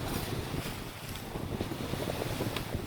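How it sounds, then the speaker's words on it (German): Steady wind rushes over a sailboat under way on the sea off the Riviera, a continuous broadband roar with faint water wash beneath and no talk. "Der Wind hat sich jetzt geändert"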